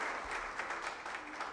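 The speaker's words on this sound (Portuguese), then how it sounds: "Por favor, uma salva de palmas" Applause at a formal solemn session launching a therapeutic communities front greets Bishop Dom Fernando Rifan: a short, dense patter of many hands that is even and moderately loud throughout the brief moment.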